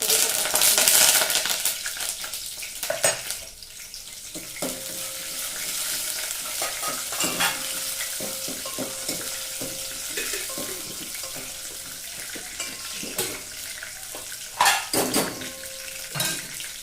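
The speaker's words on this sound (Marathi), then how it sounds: "आता मी पहिलं तेल टाकून घेतलं त्यानंतर थोडंसं खोबरं थोडस लसूण टाकणं" Coconut and garlic fry in oil in a home kitchen, giving a steady sizzle close by with scraping spoon strokes and a few clanks.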